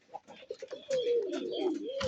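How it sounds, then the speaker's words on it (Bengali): Sky-blue local pigeons coo close by: a few soft short notes, then a longer, wavering throaty coo rolling on to the end, with no talking. "বেশিরভাগ ম্যাক্সিমাম আকাশি কালারই কবুতর বেশি, আকাশি কবুতরটাই বেশি।"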